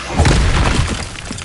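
A Repulsor spell in Hogwarts Legacy lands as a single loud, booming blast with a shattering crunch that quickly decays.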